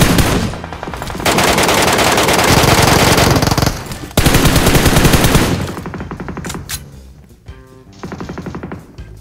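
Sustained automatic gunfire from a PUBG Mobile match, loud and close, with long rapid bursts broken by brief pauses and a sharper shot trailing off at the end.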